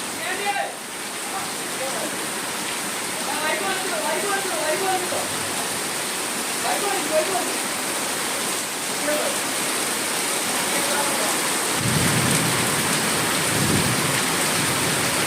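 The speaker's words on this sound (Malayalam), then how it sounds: "1 മണിക്കൂർ കൊണ്ട് നല്ല അടിപൊളി കാറ്റും മഴയും ഒക്കെ ആയിരുന്നു." Steady, heavy summer rain pours down with strong wind and a low rumble of thunder rolling in near the end; faint voices surface beneath the downpour.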